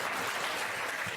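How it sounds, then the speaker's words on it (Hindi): A short, dense burst of audience clapping for a student at a school event, steady and moderately loud. "तालियां होना चाहिए"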